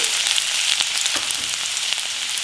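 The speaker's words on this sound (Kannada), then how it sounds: "ಈಗ ಓಕ್ ಬೌಲ್ಗೆ ಒಂದು ಎರಡು ಟೇಬಲ್ ಸ್ಪೂನ್ ಅಷ್ಟು ಎಣ್ಣೆನ ಹಾಕೊಳ್ಳೋಣ ಒಂದು ಟೇಬಲ್ ಸ್ಪೂನ್ ಅಷ್ಟು ಕಟ್ ಮಾಡಿರುವಂತಹ ಬೆಳ್ಳುಳ್ಳಿ" Chopped garlic frying in one to two tablespoons of oil in a wok, a bright, steady, close sizzle with a few soft stirring ticks and no voices.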